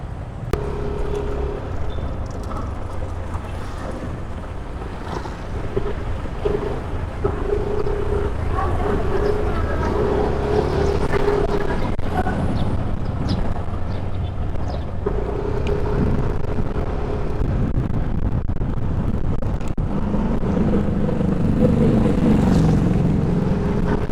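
Steady road noise with engine hum and wind buffeting, as vehicles rumble along nearby; faint voices occasionally come through underneath.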